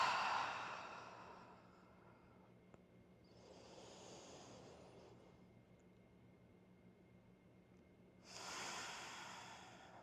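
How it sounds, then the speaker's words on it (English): Slow, deep breathing during a calm morning yoga flow, heard as three soft, airy inhale and exhale swells spaced several seconds apart, close and quiet with no talking. "Deep inhales. And deep exhales."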